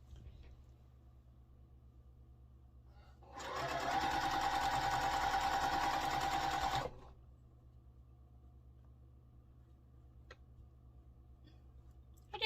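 A sewing machine stitches a quarter-inch seam on a pumpkin quilt block in one run of about three seconds. The rapid, even whir is close and loud, with quiet room tone and faint clicks before and after.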